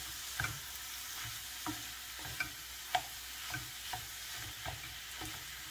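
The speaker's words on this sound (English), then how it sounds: "And just make sure that you break up the meat." Ground beef for cheeseburger spring rolls fries in a pan with a soft, steady sizzle while a spatula breaks it up, giving regular light taps and scrapes about every half second, fairly quiet and close.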